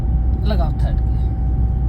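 Car engine revving with the clutch pressed during a driving lesson, a steady close drone that holds throughout while a voice speaks briefly over it.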